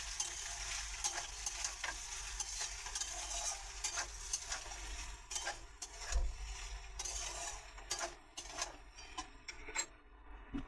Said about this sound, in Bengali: হাফ চামচ চিনি, একটু আজিনা মটর দিয়ে এটাকে নেড়ে নেব।